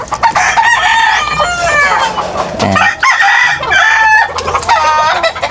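Chickens cluck and a rooster crows loudly up close in a coop, with overlapping harsh calls and squawks filling the whole stretch.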